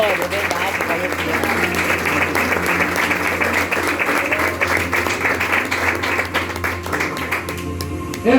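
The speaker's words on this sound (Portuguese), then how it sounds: "Salva de palmas para Deus." A church congregation applauds loudly in dense, continuous clapping that covers the whole stretch. Voices and a low hum sit underneath, and the clapping tails off at the end.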